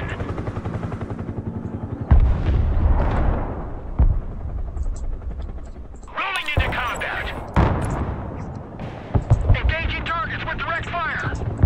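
In the Broken Arrow war game, booming artillery blasts and gunfire roll out in several loud bursts amid sustained battlefield rumble, with radio-style voices and a player talking over parts of the action.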